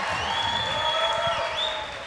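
Audience applause and cheering fill a convention hall during a Star Trek Deep Space Nine panel at Greater Philadelphia Comic Con 2019, a steady dense roar of clapping that holds for about two seconds before easing slightly.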